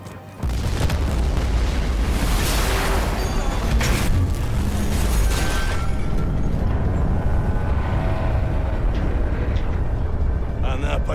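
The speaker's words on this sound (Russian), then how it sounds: "Взрывайте этот корабль сейчас же!" A huge ship explosion in the video game Battlefield 4 bursts after a brief pause and rolls into a long, deep, roaring rumble with crackling debris that fills the scene.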